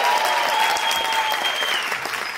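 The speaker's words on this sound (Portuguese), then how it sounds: "já recebo com aplausos" Live comedy show audience applauding as a comedian is welcomed to the stage, a dense continuous burst of clapping with a few whistles cutting through.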